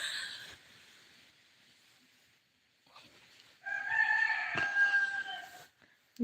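A rooster crows at an early-morning home, one long drawn-out call rising to full strength midway and ringing out clearly, preceded by quieter clucking and faint background sound.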